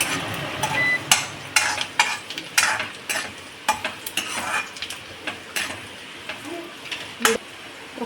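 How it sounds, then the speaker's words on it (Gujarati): Onions frying in a pan for a spicy peanut-bhujia curry, with repeated sharp metal scrapes and clanks of a spoon stirring them, irregular strikes over a steady hiss of sizzling, close and fairly loud. "ડુંગળી નાખીશું ડુંગળીને થોડી પાકી થવા દઈશું"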